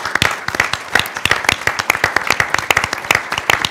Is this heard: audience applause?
yes